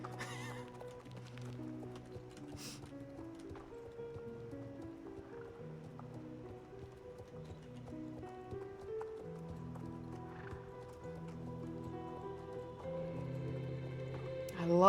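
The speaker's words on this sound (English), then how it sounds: "Horsey." A horse's hooves clip-clop steadily in the online game Star Stable Online, set beneath a continuous melodic game soundtrack, at a moderate, even volume.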